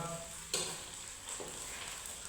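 Chunks of beef frying in hot oil, a steady close sizzle with a few sharp crackles and stirring clatters on top.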